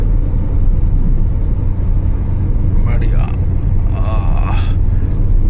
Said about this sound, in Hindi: अपनी गाड़ी वही 80-90 एक क्रूज पे चल रही है